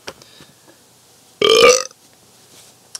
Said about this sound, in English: How many times did I burp during this commentary?